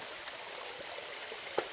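A waterfall at a cooking spot, a steady broadband rush of falling water filling the whole moment, with a few faint droplet splashes on top and no voices.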